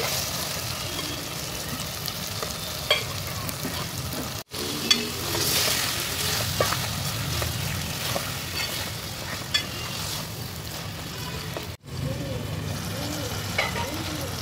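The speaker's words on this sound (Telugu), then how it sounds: "పచ్చివాసన పోయే వరకు కొద్దిసేపు ఫ్రై చేసుకొని మనం శుభ్రం చేసిన చికెన్ అయితే వేసేసుకుందామండి" Chicken is stir-fried in a pan for chicken pulao with a loud, continuous sizzle and repeated stirring scrapes, broken by two short silent gaps, and no one speaks.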